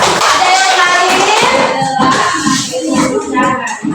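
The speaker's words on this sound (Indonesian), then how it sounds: "Tepuk tangan untuk kita" A class in a mathematics lesson claps briefly, a burst of hand clapping mixed with children's voices and some shuffling, close and loud before settling into talk.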